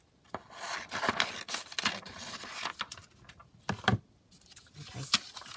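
Scissors cutting down an A4 paper sheet while making a junk journal: a close series of snipping, rustling paper strokes with brief pauses, fairly loud and with no talking.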